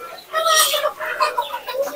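Chickens cluck close by at a village market in Nagarpur, Tangail, with repeated bursts that rise and fall over the busy background.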